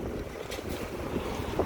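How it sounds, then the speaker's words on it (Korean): Strong wind blowing across a rooftop, a steady, loud broadband roar that buffets the microphone without pause; no one speaks. "이 정도로 바람이 많이 불고 있습니다."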